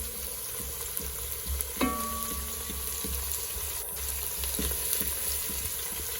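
Garlic sizzles steadily in hot oil in a pan for an Iraqi fish stew, a continuous close frying hiss with a sharp clink near two seconds and no talking.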